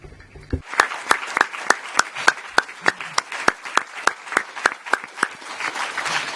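Press-room audience at a European Council press conference clapping in a steady, even rhythm, sharp individual claps ringing out close and alone.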